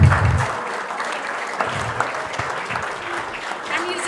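An indoor audience at an art competition event applauds, a dense burst of clapping that fades to scattered claps with some voices mixed in.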